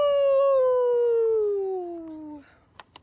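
A single coyote gives one long, clear howl that slowly glides downward in pitch, loud and alone before fading, followed by a couple of faint clicks.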